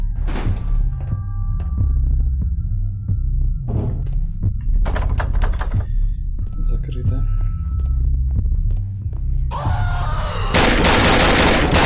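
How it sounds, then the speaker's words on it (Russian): Several sharp gunshots in the video game Grey crack out one by one between thuds and clanks, ending in a burst of loud rapid fire. "Два последних выстрела были необязательными."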